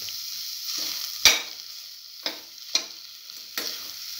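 Tomato pieces sauteing with an eggplant stew mixture in a pan, a steady close sizzle punctuated by several sharp stirring scrapes and knocks of a utensil against the pan.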